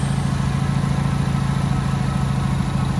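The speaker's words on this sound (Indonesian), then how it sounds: "Suara mesinnya adem banget," A 2009 Honda Civic FD 1.8 automatic engine idling smoothly, an even low hum with a steady fine pulse, recorded close up, with no voices and no knocks or ticks.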